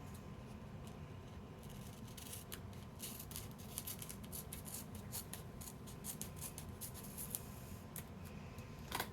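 Scissors snip through a paper sheet with a string of short, crisp cuts and rustles at close range over a steady low background hum, with no voices.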